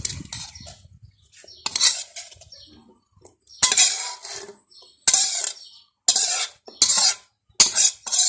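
A utensil scooping stir-fried pork liver with basil onto a plate, sharp clinks and scrapes in separate bursts between short quiet gaps, close and fairly loud.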